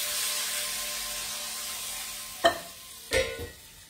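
A hot pasta pot hisses and sizzles steadily with guanciale, then water hits it with sharp bursts of louder crackling and spitting.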